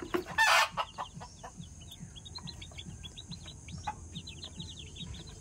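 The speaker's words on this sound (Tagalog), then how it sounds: "Ay, yan ang mga sisiw namin." Chicks peep in a steady chorus of high, short chirps close by, with a loud rooster-like call near the start and scattered clucks under faint background noise.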